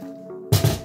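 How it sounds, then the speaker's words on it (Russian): Boiled water is poured over halved, salted potatoes in a pot, a brief close gush with a couple of heavy low splashes after a quiet moment. "Заливаю кипяченой водой."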